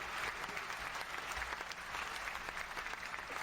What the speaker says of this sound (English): That is a long round of applause.